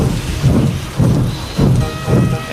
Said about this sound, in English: Together, they braved through the stormy weather, all the way to the last station.